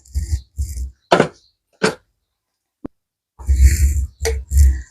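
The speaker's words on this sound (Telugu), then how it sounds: "మూత పెట్టి కచ్చపచ్చగా రుబ్బేసుకోవాలి" Mixer grinder coarsely grinding cumin and garlic, pulsed on and off in short whirring bursts, with a longer burst near the end, loud and close.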